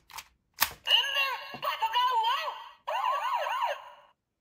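A couple of sharp plastic clicks, then the electronic police siren of a Bakuage Sentai Boonboomger DX Boonboom Police Set toy wails and warbles in rising and falling sweeps before cutting off.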